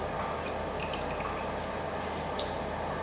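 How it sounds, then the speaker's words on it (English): Distilled water pours into a glass volumetric flask in a chemistry lab, giving a steady, continuous trickling wash that holds level throughout with no voices. "filling my volumetric flask with distilled water."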